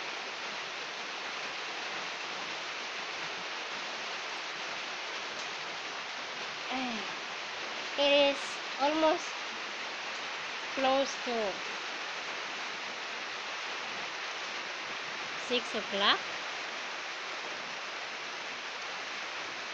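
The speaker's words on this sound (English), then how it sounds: "Wow, it's raining here again," Steady rain falls in a broad, even hiss that lasts the whole stretch, moderately loud and close. A person speaks briefly over it a few times.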